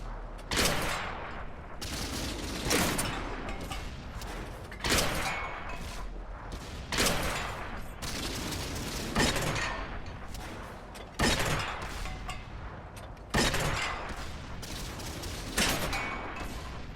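Repeated tank cannon shots in the World of Tanks console game, fired by a Pz.B2 at an M3 Lee, each a loud booming blast with a short decay, spaced roughly every two seconds throughout with no talking.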